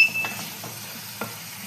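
Masala being stirred and sautéed in a pan for tengra fish curry, a faint sizzle under a few soft scraping strokes of the spoon, quiet and close.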